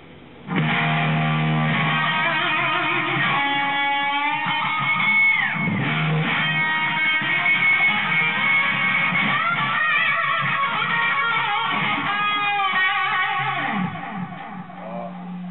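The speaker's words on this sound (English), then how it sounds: "I've also turned on this dark matter distortion pedal we have over here" Sustained electric guitar through distortion and delay pedals, playing chords and bends, a smeared echo trailing the notes, loud and continuous throughout with no talk.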